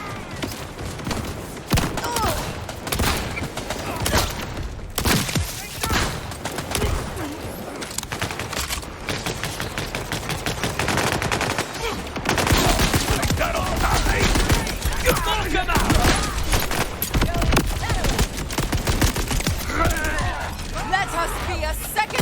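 Rapid gunfire rattles almost continuously in Borderlands 4, dense bursts and shots layered with game effects while players talk over it.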